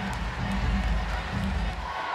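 Crowd cheering at a netball final in the NEC Arena, a steady dense roar of many voices filling the hall, with a commentator's voice over it.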